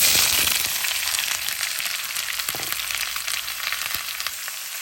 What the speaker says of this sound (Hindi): जब तक कि हमारी प्याज गोल्डन हो रही है, बहुत ज़्यादा गोल्डन नहीं करना है, हल्का हल्का सा करना है।